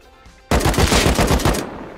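Rapid automatic gunfire in the video game Rust bursts in suddenly after a short quiet, a loud, dense string of shots lasting about a second before cutting off.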